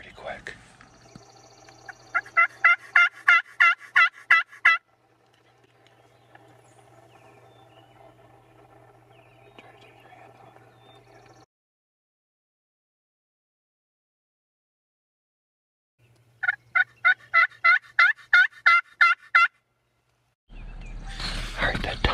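A wild turkey tom gobbles out in a Wisconsin field, two rattling bursts of rapid repeated notes separated by a long quiet stretch, fairly close and clear, with faint low background hum.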